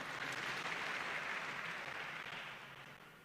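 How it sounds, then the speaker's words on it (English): A crowd applauds the vicar at a cathedral gathering, a steady wash of many hands clapping that fades slightly toward the end, distant and fairly faint. "Give him a big clap."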